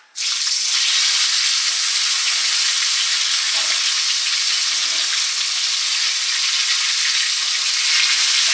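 Fish heads frying in mustard oil in a wok, a steady, loud, close sizzle that holds without a break throughout, with faint bubbling pops now and then and no voices.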